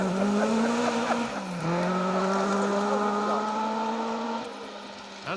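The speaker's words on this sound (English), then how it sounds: "car 41, Andrew Haddon and Mark Crisp riding the ditch" Rally car, car 41, roaring past while riding along a roadside ditch on a stage of the Roger Albert Clark Rally, a loud engine note rising through the gears with a sharp shift and revving, close by, fading slightly at the end.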